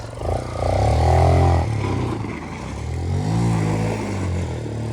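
A motorcycle engine revs up loudly and close, climbs in pitch, drops back, then revs again in a second rising pull, with no voices over it.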